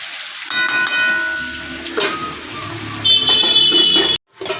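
Chillies, tomatoes and vegetables sizzle and fry in a pan for a dried-fish curry, a steady close hiss with metallic scraping and stirring clatter, then a sudden cut near the end.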